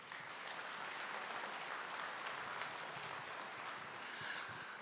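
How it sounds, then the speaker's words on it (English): Steady applause from a forum audience in Regina, a dense even patter of many hands clapping at moderate distance with no voices over it. "a round of applause for Michelle and Steph."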